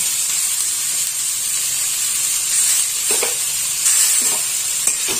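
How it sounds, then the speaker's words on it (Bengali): Chopped tomatoes and soft eggplant fry in an almost dry pan over low gas, giving a steady sizzle and hiss with a few scraping stirs of a spatula near the end, no talk. "টমেটোটাকে একটু ভালো করে ভেজে নেব"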